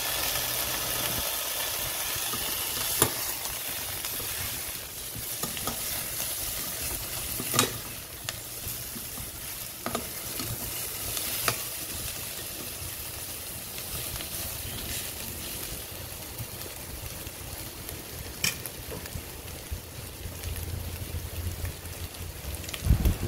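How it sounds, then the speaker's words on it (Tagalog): Pork ribs sautéing with garlic in a pan give a steady sizzle with a low background hum, punctuated by occasional sharp clinks and scrapes of a utensil stirring over a long stretch without talk. "Igisa na po ang pork ribs."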